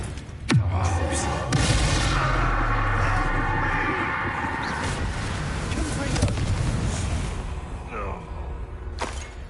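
A fire spell cast in Hogwarts Legacy on PS5, a sudden whooshing blast followed by a sustained roaring rumble of flame and magic effects, loud and close, with voices speaking over it.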